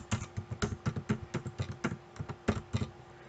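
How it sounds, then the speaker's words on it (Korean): Steady run of about a dozen and a half crisp computer keyboard keystrokes entering a 13-digit resident registration number, close and fairly even in rhythm, with no voices. "주민등록번호 13자리를 한번 입력을 해볼게요"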